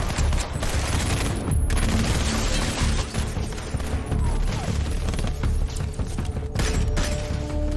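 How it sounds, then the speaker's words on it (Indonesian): Dense, continuous gunfire with rapid overlapping shots and crashes during a bank robbery shootout, loud and chaotic like an intense exchange of fire. "Baku tembak pun tak terelakkan."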